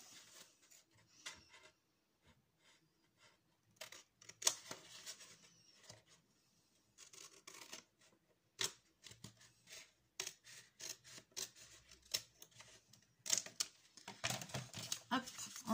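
Scissors cut a strip of paper in a quiet room, a series of faint, irregular snipping and rustling sounds up close, with someone speaking at times.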